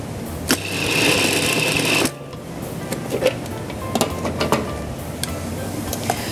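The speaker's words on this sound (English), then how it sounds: "we're going to bring it over to a food processor. And we just want to lightly pulse the tomatoes." A food processor briefly pulses chopped tomatoes for a chunky rustic pasta sauce, one loud motor whir of about a second and a half, followed by quieter kitchen clatter and small clicks.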